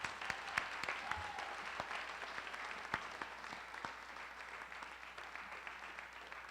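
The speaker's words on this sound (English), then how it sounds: "let's give a round of applause for Congressman Blumenauer" An audience at an environmental law conference keynote gives a round of applause for Congressman Blumenauer, a steady, fairly distant patter of many hands that slowly fades, with a few sharper claps standing out.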